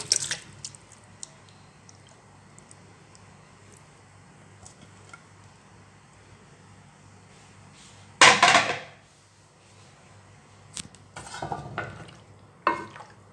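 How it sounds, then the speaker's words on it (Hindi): Marinated chicken tikka drops into a pan, giving a short loud burst of sizzling and clatter partway through, then scattered pan and utensil knocks over a quiet background. "मैंने यहाँ पे ले लिया एक पैन, और उसमें ऐड कर देंगे मैरिनेट किया हुआ चिकन"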